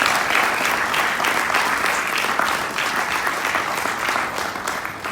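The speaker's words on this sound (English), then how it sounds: "give yourself a round of applause one more time" A large audience at a Nation of Islam gathering in Los Angeles breaks into loud, sustained applause that holds steady for several seconds before tapering slightly.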